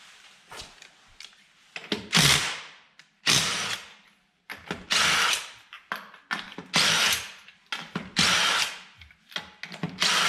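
A power tool spins lug nuts off a Jeep Gladiator wheel, raised on a floor jack, in repeated loud short whirring bursts separated by brief pauses, each burst rising then cutting off.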